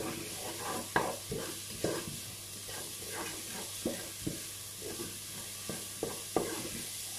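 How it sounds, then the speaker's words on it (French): Onions frying in a pan after pork chops are set aside, a quiet steady sizzle punctuated by regular scraping strokes of a spatula. "Et je fais revenir mes oignons."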